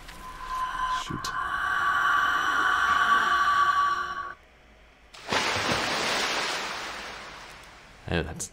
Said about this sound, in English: Oh, that's the sound of her throwing us in the water.